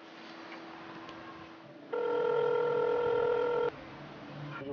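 A telephone is dialed for a call: a faint tone hums first, then a loud steady multi-tone beep holds for about two seconds before cutting back to the quieter tone.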